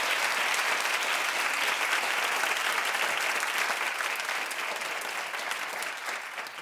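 Studio audience on a daytime television talk show applauding steadily, a dense, even wash of clapping that holds loud for the whole stretch and only eases slightly near the end.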